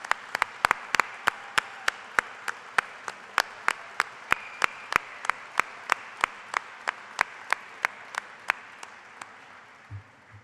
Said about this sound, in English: They are the ones that deserve a round of applause as well tonight.